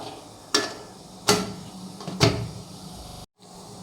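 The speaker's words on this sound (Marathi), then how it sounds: "आता आपण कुकरचं झाकण लावून घेऊया" A metal idli cooker lid is set in place with three sharp clanks spaced about a second apart, close and fairly loud over a low kitchen hum, followed by a brief moment of silence.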